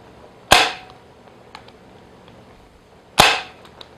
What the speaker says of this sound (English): take a staple gun